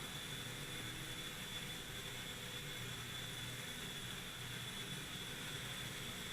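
Silverlit Metal Copter toy helicopter spinning its rotor at full throttle, a steady, dense whirring hum with a high whine, constant and close for the whole stretch.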